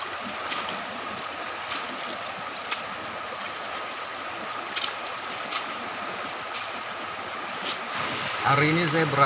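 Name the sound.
flowing river water at Kali Alas river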